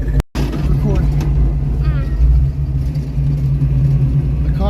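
A Ford Mustang project car idling at a gas station while being refueled, its steady low engine rumble running close and continuous, with a person talking over it.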